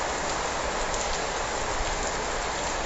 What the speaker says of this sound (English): It's just been raining non-stop.